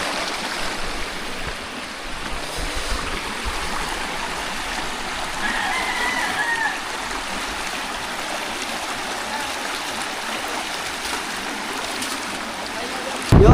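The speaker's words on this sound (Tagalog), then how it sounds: "Tawid ng sapa. Tawid ng sapa." Continuous rushing babble of a shallow stream as it is waded across, a steady broadband wash of water close by that swells slightly near the end, with no clear talk.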